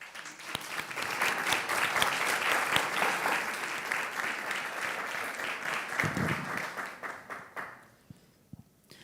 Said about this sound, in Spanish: Un fuerte aplauso, bienvenidos.